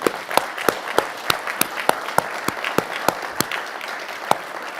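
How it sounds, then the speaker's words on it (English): A round of applause at the close of a talk on AI, a steady wash of clapping from the audience with regularly spaced, prominent individual claps punctuating it throughout. "Let's give them all a round of applause."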